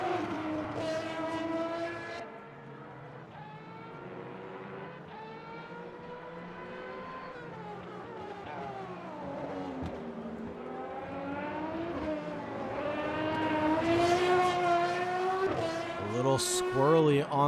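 A race car roars out of Vale and Club corners at Silverstone in Le Mans Ultimate, engine pitch dropping into the bends then rising hard under throttle, with tire squeal near the end and a commentator talking over it.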